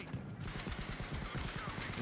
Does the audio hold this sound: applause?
no